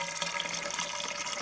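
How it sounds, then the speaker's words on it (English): Water from a garden hose pushed into a fill pipe, filling the reservoir of a garden bed: a steady hissing, splashing rush that holds constant and fairly close, with no talking. "So we'll just now fill up our reservoir. So the hose just in the fill pipe."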